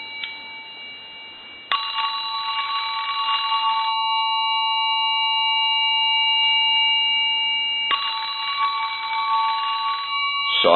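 A Western Electric telephone bell ringer set to loud ring gives a brief ding, then a long, harsh, rattling bell ring of about six seconds. A second burst of ringing follows, loud and close, with no voices.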